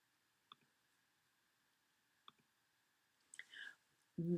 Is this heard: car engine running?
no